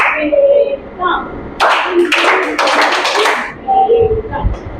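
A class of young children clapping together in a classroom, a burst of rapid, loud claps lasting about two seconds between spoken counting from an adult, with children's voices around it.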